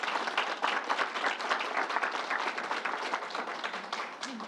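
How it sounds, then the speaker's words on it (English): A crowd gives a round of applause at an outdoor event at the State Fairgrounds, a steady patter of many hands clapping at moderate distance for several seconds. "Let's give Troy a round of applause."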